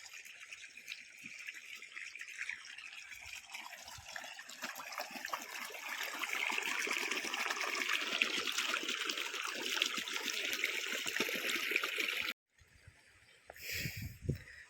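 Irrigation water rushes and gurgles steadily as it flows into field beds of spinach, growing a little louder midway before cutting out briefly and returning.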